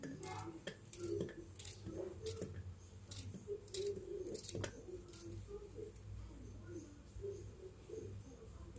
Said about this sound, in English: The tail and the head, you snip them off, and then you start dicing up your okra.